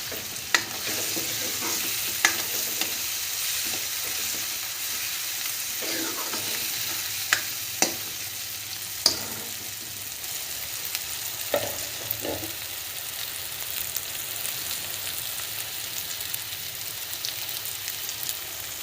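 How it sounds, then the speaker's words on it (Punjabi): Masala spice paste frying in oil for a besan pakora curry, with a steady bright sizzle throughout and scattered sharp scrapes and clicks of a spoon stirring the pan, close and continuous with no talk. "ਮਸਾਲਾ ਸਾਡਾ ਤਕਰੀਬਨ ਭੁੱਜ ਹੀ ਚੱਲਿਆ ਹੈ ਆ ਵੇਖੋ ਮਸਾਲੇ ਨੇ ਤੇਲ ਛੱਡ ਦਿੱਤਾ ਹੋਇਆ"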